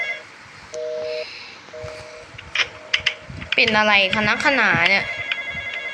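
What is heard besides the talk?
phone ringing in Roblox game The Intruder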